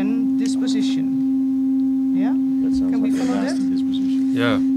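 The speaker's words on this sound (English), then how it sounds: "the entrance consisted of white noise gradually changing toward a sine" A steady, loud pure sine tone from a George Brecht performance sounds throughout, one unwavering pitch, while several people talk and murmur over it.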